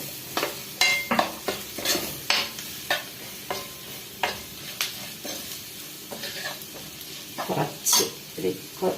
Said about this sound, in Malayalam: നമുക്ക് എടുത്ത് വെച്ചിരിക്കുന്ന കറിവേപ്പില ഒന്ന് വഴറ്റിയിട്ട്